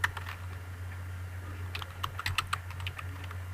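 Quiet keystrokes on a computer keyboard come in a quick irregular burst with short pauses as C code is typed, and a steady low hum sits under them.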